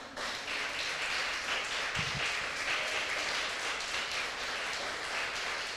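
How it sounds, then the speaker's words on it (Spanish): A church congregation gives soft, distant applause that carries on evenly throughout, a faint, continuous patter of many hands. "Damos un aplauso a Dios por su obra maravillosa"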